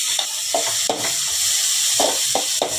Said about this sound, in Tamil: கொஞ்சம் உப்பு போட்டு வதக்கிக்கலாம்